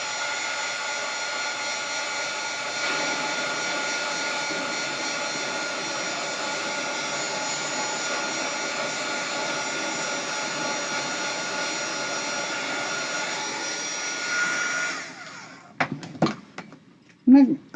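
A drying tool blowing on a painted artist trading coin, a loud steady whooshing drone that runs for about fifteen seconds before cutting off, followed by a few handling knocks.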